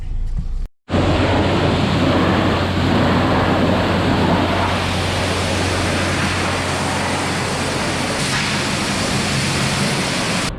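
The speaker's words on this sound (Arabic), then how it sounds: "نغسلها غسيل جك عشان عايزين نغسل الماكينة، نغسل الجير، غسيل كامل يعني" A water spray washes a Nissan Altima and its engine bay, making a loud, continuous rushing hiss that starts after a brief gap and holds steady throughout, with no talking.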